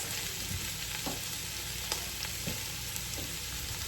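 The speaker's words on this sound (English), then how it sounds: "I love the sound of that sizzle." Onions frying in a hot pan give a continuous crackly sizzle, with occasional clicks and scrapes from stirring, close by and with no talking.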